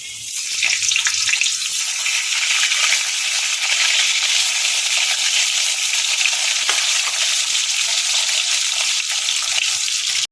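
Steady, loud sizzling of pumpkin pieces frying in hot oil, a continuous crackling hiss with no pauses and no voices.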